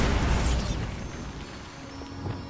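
A Bombarda blasting spell detonating in Hogwarts Legacy, a single loud boom at the start that rumbles and fades away over a couple of seconds, with no talk.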